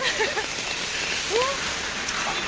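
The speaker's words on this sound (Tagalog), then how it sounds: "Naabutan kami ng ulan." Steady rain falls outdoors on a street in Makati, a dense, constant hiss heard up close while walking, with faint voices briefly audible underneath.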